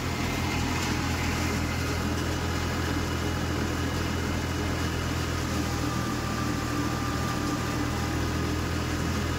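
A 45 HP tractor drives a soybean thresher, giving a loud, continuous, steady engine drone with a low rumble and mechanical hum, close up and unbroken throughout.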